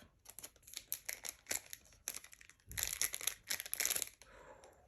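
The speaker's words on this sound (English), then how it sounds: "And just snip the top off." Scissors snip open the top of a Godzilla card game pack, producing a run of crisp cutting and crinkling foil-wrapper sounds, close and fairly loud, with a louder burst of crumpling near the end and no talking.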